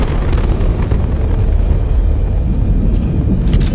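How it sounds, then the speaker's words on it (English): A nuclear explosion in the video game Mass Effect 2 fills the whole stretch as a loud, steady roaring rumble with a deep low end and no letup. No voices are heard. "It's quite literally a nuclear explosion."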